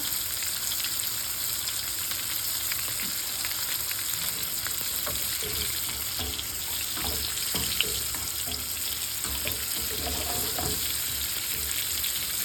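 Hilsa fish shallow-frying in oil, giving a continuous crackling sizzle with scattered pops and light scraping of a utensil, close and steady and without voices.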